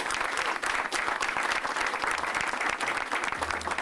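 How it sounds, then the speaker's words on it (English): Audience applause fills a school event at MS 890 in Brooklyn, a steady, dense wash of many hands clapping close by for nearly four seconds without a break. "Let's give them a round of applause"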